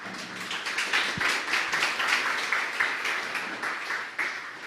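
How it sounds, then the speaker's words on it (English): A crowd at a startup demo day event applauds steadily to welcome a judge onto the stage, a dense, even patter of clapping at moderate volume lasting several seconds. "with a big round of applause, let's welcome Javier Araneda"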